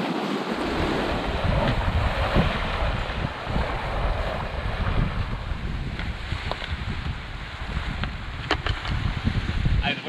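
Strong wind roars over a sailboat at sea, with surf and waves washing steadily around the hull and a few faint knocks and creaks, close and loud throughout.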